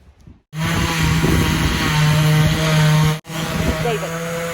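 A power sander running 80 grit sandpaper over a dry, cracked wooden door, a loud steady drone that cuts out briefly and restarts.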